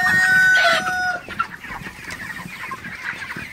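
Broiler chickens in a farm shed at night cluck loudly and overlap for about a second, then settle into scattered softer clucks and rustling nearby.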